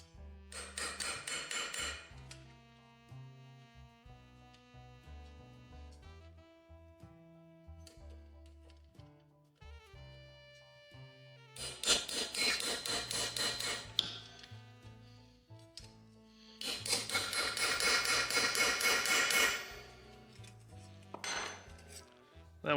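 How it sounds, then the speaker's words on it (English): A hammer knocks down a decorative rivet on an anvil while fabricating a copper funnel, producing bright ringing metallic blows in three rapid bursts separated by quieter tapping and pauses. "We'll just knock it down on the anvil."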